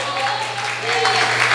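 Church congregation applauding at a steady, moderate level, clapping swelling slightly toward the end over a low hum.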